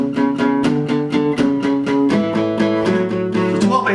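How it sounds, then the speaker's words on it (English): Guitar strummed in steady eighth notes to a 12/8 blues shuffle feel, each chord stroke sharp and evenly spaced, loud and close with no voice over it. "So if I play all of the 8th notes, it sounds like this."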